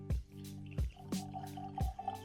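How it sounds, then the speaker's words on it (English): Reifel Rye whisky from Alberta Distillers is poured into a glass, with a few distinct glugging drips in a quick uneven rhythm, close and clear. "Let me pour it in your glass"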